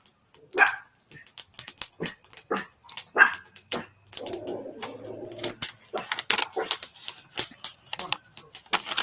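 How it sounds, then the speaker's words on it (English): A dog barks in short sharp bursts, close and fairly loud, mixed with birdsong and cooing pigeons outdoors, with a brief low rumble in the middle. "I know not what she barks about"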